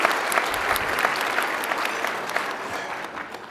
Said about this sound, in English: Yes, that's certainly a point to applaud.